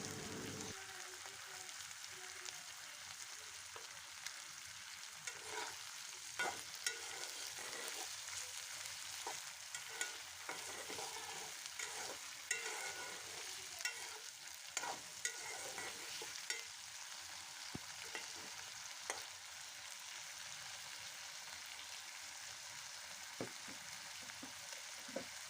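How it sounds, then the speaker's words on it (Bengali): Dried fish, onion and chopped potato frying in oil in a pan, a steady close sizzle with repeated scraping and clacking of a stirring spoon throughout. "আলুটাকেও আমি লবণ দিয়ে 3 থেকে 4 মিনিট একটু শুটকি আর পেঁয়াজ তেলের সাথে ভেজে নেব"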